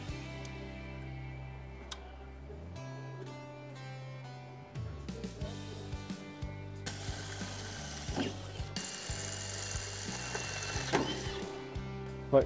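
Ratchet with a 1/2 inch socket backing out bolts on the push handle of an Oscar 330 power lift kit, a close run of quick clicking pawl ticks in bursts, with no talking.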